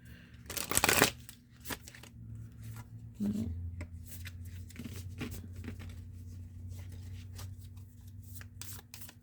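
Tarot cards from an alchemy-themed deck being handled and drawn, with a loud papery shuffle burst early on, then soft scattered rubs and light taps of cards over a quiet room hum.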